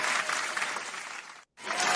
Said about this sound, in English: So give a round of applause to Yuan